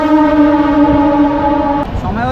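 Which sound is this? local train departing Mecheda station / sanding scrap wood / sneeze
local train departing Mecheda station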